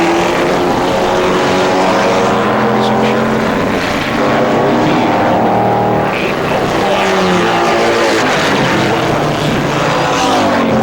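Race cars from the 1994 SCCA World Challenge at Mid-Ohio roar loudly down the straightaway, several engines droning and shifting pitch together as they pass, with a commentator talking over them throughout.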